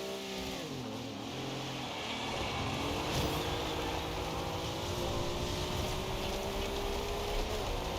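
A car engine drives in Forza Horizon 2, its steady revving tone dipping and then climbing as the car accelerates, loud and close, with no talk over it.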